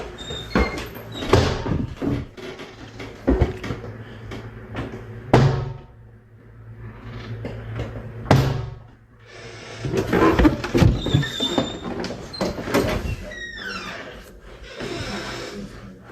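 An upstairs door in a quiet house swings open and shut by itself, giving creaking squeaks and several hollow thuds spread across the stretch, with low rustling and breath-like noise between them.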